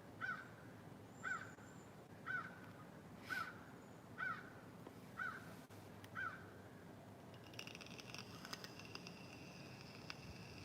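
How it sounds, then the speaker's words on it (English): A crow caws repeatedly in the woods, seven evenly spaced calls at a moderate distance, followed by faint rustling and clicking with no talk. "I don't know if that's a crow. Sounds like one."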